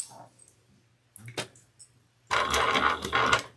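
A sewing machine runs in short bursts, top stitching a clutch wallet, with a few brief clicks and then a steady, loud whirring run of stitches.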